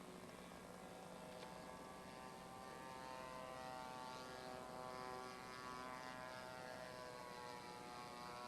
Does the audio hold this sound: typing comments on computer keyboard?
no